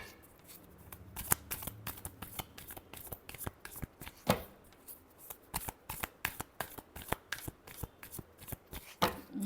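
Tarot cards being shuffled by hand, a quick run of crisp riffling flutters and sharp slaps, loud and close, in an irregular rhythm throughout with no talking.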